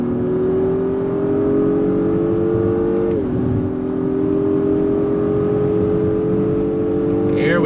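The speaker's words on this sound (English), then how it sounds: "this time I'm gonna manually shift with the paddles. On throttle, here we go. Nice quick shifts from the paddle." A 2022 Acura MDX Type S, turbocharged with a 10-speed automatic, accelerates under throttle with quick paddle-shifted upshifts; a steady engine drone rises, dips sharply at a shift, then climbs again from inside the cabin.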